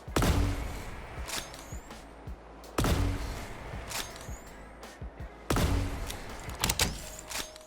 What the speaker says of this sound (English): Here we have that basic version of the Zap Pistol. Let's take a look at it firing.